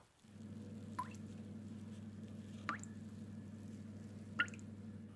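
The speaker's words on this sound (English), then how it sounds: "Look at the icicles. They drip." Three separate drips from melting icicles land a second or two apart over a steady low hum, each a small sharp plink of water.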